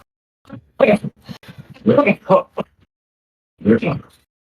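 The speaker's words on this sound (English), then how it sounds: "got a bad, nasty cough going on" Several harsh coughs come in quick bunches, close to the mic, with a short pause before a final pair.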